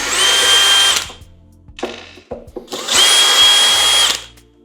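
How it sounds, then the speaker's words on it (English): A power screwdriver whirs in two loud, sustained bursts while taking a screw out of a JBL Partybox 720 speaker during a teardown, with faint clicks and handling knocks in the pause between. "Let's remove the screw."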